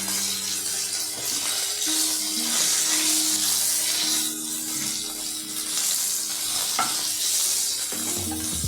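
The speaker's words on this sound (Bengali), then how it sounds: "গোটা জিরাটা যখন ভাজা ভাজা হয়ে গেল, তখন তাতে আমরা দিয়ে দিব আলু" Boiled potatoes go into a pan of fried whole cumin and sizzle in a steady, loud, hissing wash for the whole stretch, with a low hum underneath and a few clinks.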